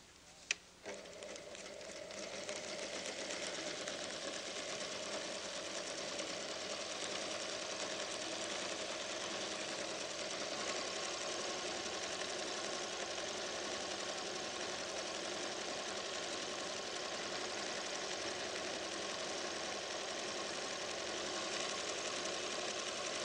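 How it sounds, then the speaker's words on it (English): A PFAFF creative 1475 sewing machine stitches ribbon in a fast, even mechanical whir with a rapid clatter that runs steadily and close after a brief start. "Place the ribbon under the foot and sew."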